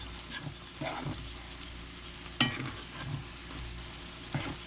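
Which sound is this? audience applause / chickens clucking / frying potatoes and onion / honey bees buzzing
frying potatoes and onion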